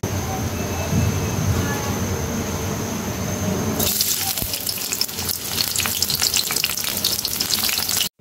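Carrots and onions fry for noodles in a home kitchen. A faint background hiss gives way partway through to a loud, crackling sizzle that continues to the end.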